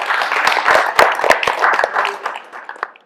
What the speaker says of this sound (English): let's give a round of applause for Devantai.